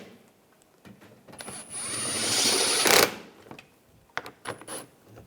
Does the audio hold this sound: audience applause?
no